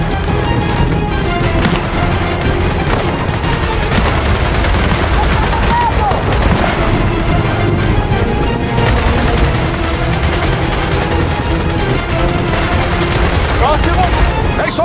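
Dense, continuous battlefield gunfire from the video game Gears of War 4, with rapid rifle bursts and booms filling the scene at steady loudness while voices shout over the fighting.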